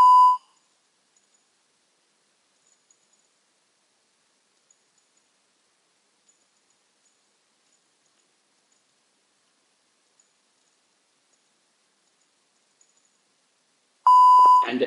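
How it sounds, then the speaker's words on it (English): Training software on a FreePower strength system gives two short, clear electronic beeps, one at the start and one near the end, separated by long near-silence. "the software will detect the static condition, generating another beep"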